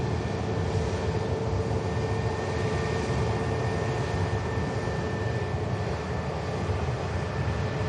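An EasyJet airliner returning from Amsterdam to Manchester Airport makes a steady, broad jet roar that holds at an even level throughout, with no voices.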